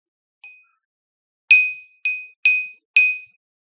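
A glass object struck several times, giving one faint tap and then four clear, bright ringing dings in a loose rhythm, each sustained and fading quickly in otherwise silent surroundings.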